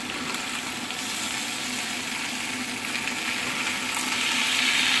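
Potatoes fry in a pan with a steady, close sizzle, a continuous crackling hiss that holds even throughout and swells slightly toward the end, with no voices over it.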